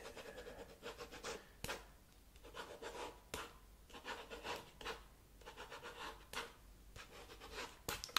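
A pencil draws on paper in close, quiet detail, with soft rhythmic scratching strokes and short pauses between them.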